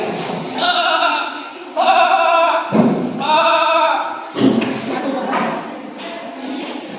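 A voice imitates a sheep, giving a series of wavering, nasal bleats in several bursts, close and loud.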